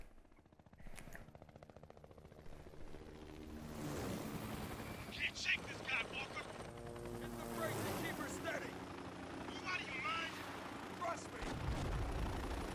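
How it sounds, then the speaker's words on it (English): Helicopters in the video game Spec Ops: The Line thrum with rotor chop amid heavy gunfire and explosions, a busy layered battle sound that swells and stays dense throughout. "Helicopters."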